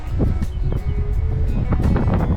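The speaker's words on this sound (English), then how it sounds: "here comes that wind again" Steady wind gusts buffet the microphone at a Corps of Engineers lakeside campground in Dawson, Texas, a loud continuous rumble with rustling swells throughout and no voices.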